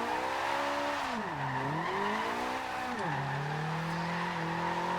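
A Toyota AE86 held in fourth gear in Forza Horizon 2, the engine droning in the mid-range and rising and falling only slightly in pitch, with steady tire squeal and skid noise layered over it, no talk.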